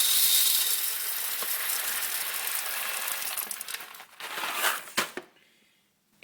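Coffee beans are dumped into a coffee grinder in a dense, close rattling cascade that lasts about five seconds. A few final clatters follow before it falls quiet.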